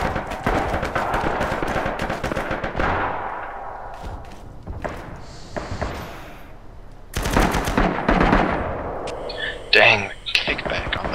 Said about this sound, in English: Before I can fire my mortars off.